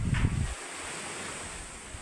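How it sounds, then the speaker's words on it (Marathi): Strong evening wind blows outdoors beside a house and tree, whipping up papers and dust; a brief low thump opens, then a steady broadband gusting rush continues alone at moderate loudness. "झालं आता वारच चालू झालं"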